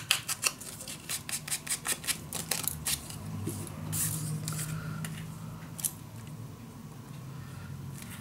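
Scissors snip through paper while a piece is trimmed down for a mini album, a quick series of close, crisp cuts at the start, then softer handling and rustling.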